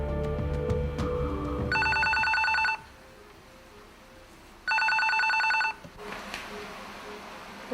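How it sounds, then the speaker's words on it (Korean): A telephone rings while someone calls home. Two bursts of ringing are separated by a pause, with music playing underneath at the start. "그 시간 정현수가 제일 먼저 한 일은 집에 전화를 거는 일이었다"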